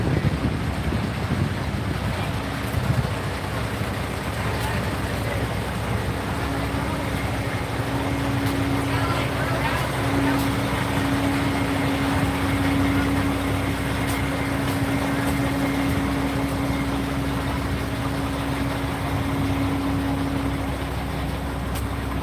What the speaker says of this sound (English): Rather noisy here at the moment. Idling dump trucks, aircraft overhead.